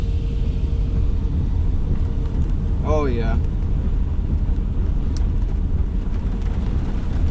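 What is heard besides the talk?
roar of a tornado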